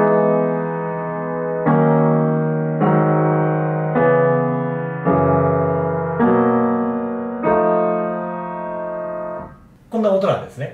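Piano playing a chord progression, a series of about eight sustained block chords struck at an even, unhurried pace, close and clear, with a brief burst of speech starting at the very end.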